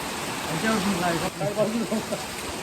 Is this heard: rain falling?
yes